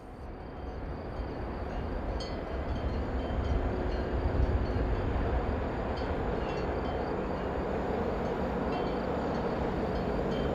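Train 843007 passes heading south on a European line, a low, fairly quiet rolling rumble that rises slightly and holds steady throughout.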